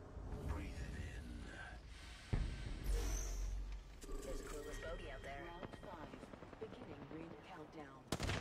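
Gunfire in a video game comes as scattered shots and bursts, with a few sharp loud cracks among quieter rattling, under frequent talk from a player.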